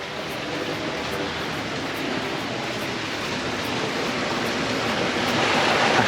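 Steady rushing river water flows continuously near a levada trail in Madeira, a broad even hiss that grows slightly louder toward the end, with no voices.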